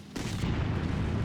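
An IS-3A tank cannon fires in World of Tanks: one loud, heavy boom followed by a deep, rumbling tail that lingers.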